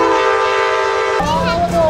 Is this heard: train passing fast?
yes